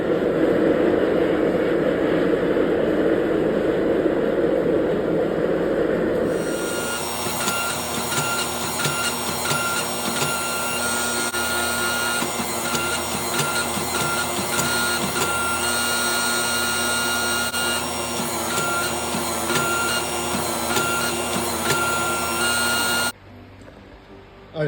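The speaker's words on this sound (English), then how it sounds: "we're going to get the forge going and get it in and put it into press." A gas forge roars steadily while a press works a nickel Damascus steel billet, giving a loud, continuous blower rush with a hard mechanical drone that cuts off abruptly near the end.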